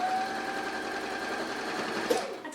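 A sewing machine stitching a quarter-inch seam on a hexagon table runner runs in one steady, close-up whir with no break. A small clunk near the end sits over a faint background hum.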